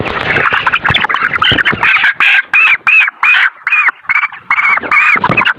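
Broiler chickens and a rooster cluck loudly and close by in a rapid, repeated series of sharp calls, nearly continuous with brief gaps between them.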